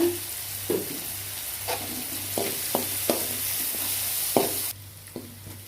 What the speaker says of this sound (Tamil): தக்காளி வதங்கிறதுக்கு தேவையான அளவு உப்பு உப்பு லைட்டாக சேர்த்துக்கோங்க